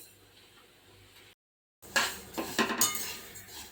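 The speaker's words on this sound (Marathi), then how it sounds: "हे बघा, तीळ मी आता छान असे खरपूस भाजून घेणार आहे." Unpolished sesame seeds are dry-roasted in a pan for tilgul laddoo, with soft scraping and clinks of a spoon stirring after a brief gap of silence, then a few louder metallic scrapes close by.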